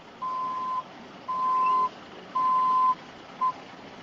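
A truck's reversing alarm sounds near a monument site: four clear electronic beeps, the last one short, over a steady wash of outdoor traffic noise.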